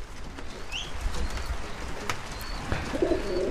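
Pigeons in an aviary holding Indian fantail, Maria Stuart and naked-neck breeds coo softly and repeatedly, with a few faint chirps over a quiet background.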